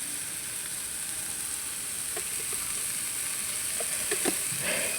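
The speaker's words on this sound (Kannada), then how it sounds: "ಟೊಮೆಟೊ ಫ್ರೈ ಆಗ್ತಾ ಉಂಟು" Tomato frying in a pan for shavige uppittu, a soft, steady sizzle with occasional faint pops near the end, close and continuous with no talking.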